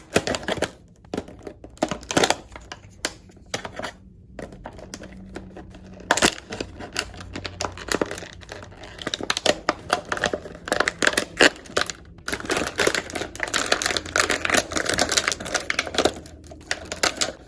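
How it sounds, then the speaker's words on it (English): Close, steady snipping and crinkling as scissors cut through stiff plastic packaging of a NECA Batman action figure, with rustling and clicks throughout; no one speaks. "I'm gonna have to use some scissors here."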